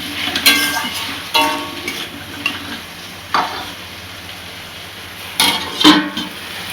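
Spoon scraping and stirring a potato paneer curry in a cooking pot, soft sizzling of oil underneath with a few louder clinks and scrapes spaced irregularly, close by, with no talking.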